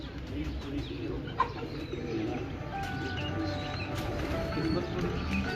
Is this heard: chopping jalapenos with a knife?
no